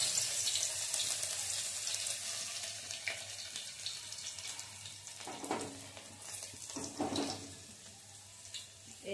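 Garlic, dried red chillies, curry leaves, cumin and mustard seeds hitting hot oil, a hissing sizzle with crackling bursts that swells and fades, close and moderately loud with no talking.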